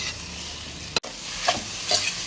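Chicken keema frying in a pan, with a soft steady sizzle and a few scraping stirs of a spoon against the pan, close and clear with no talk.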